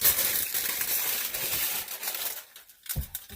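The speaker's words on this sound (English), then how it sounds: "Now we're just gonna put foil on it" Aluminum foil is crinkled and pressed down over a covered dish, a close, crackling rustle that thins out into a few quieter crinkles before one last short burst.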